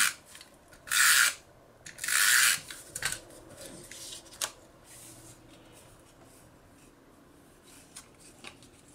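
A Snail tape runner lays adhesive on a small piece of paper for a card, giving two short, close raspy zips followed by softer rubbing and taps.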